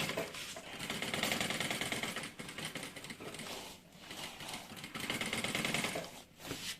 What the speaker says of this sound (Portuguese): e vai fazer uma costura de cada lado, até lá embaixo